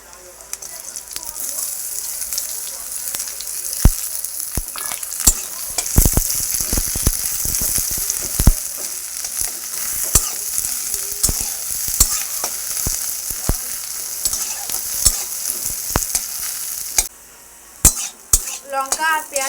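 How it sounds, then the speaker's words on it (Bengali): Green chillies and chopped onion sizzle steadily in hot oil in a pan, with frequent sharp clinks and scrapes of a spatula stirring against the metal throughout. "লঙ্কা আর পেঁয়াজটা হালকা ভেজে নেব"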